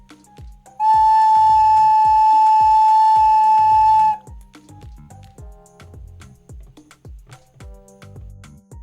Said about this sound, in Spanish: Y el sonido de la flauta suena así.